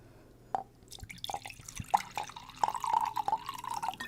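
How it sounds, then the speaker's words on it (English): Soju pouring into a glass: a few close, separate drips and splashes at first, then a steadier trickle of liquid in the second half, with no talking. "Anyways, I'm pouring soju."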